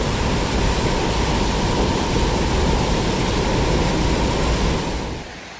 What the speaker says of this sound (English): Going around the waterfall that's just right there.